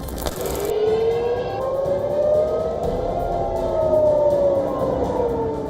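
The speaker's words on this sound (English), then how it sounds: "First come the sirens." A wailing air raid siren in Israel during Iranian missile attacks rises and falls slowly, loud and sustained, over a low background rumble.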